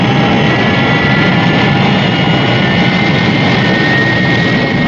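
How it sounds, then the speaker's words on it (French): Jet aircraft engine roars steadily and loudly at close range as the plane prepares to take off, a dense unbroken drone without speech. "Prêt pour le décollage. Tu peux décoller."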